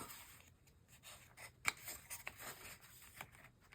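Scissors snip through paper while working on an art journal page, a few quiet, sharp cuts with one crisper snip standing out against a soft background.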